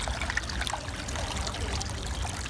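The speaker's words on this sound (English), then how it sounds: "The sound of this creek that's flowing itself is so beautiful." A small creek with little flow, steady close trickling and burbling water along the Buckeye Trail in Brecksville Reservation, Ohio, in winter, heard alone without talk.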